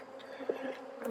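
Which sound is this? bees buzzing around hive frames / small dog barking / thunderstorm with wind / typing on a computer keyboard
bees buzzing around hive frames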